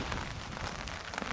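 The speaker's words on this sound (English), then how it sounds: "got a bit of rain coming through here" Rain falls on a tarp shelter during a storm while camping, a dense, steady patter of drops close overhead with no pauses.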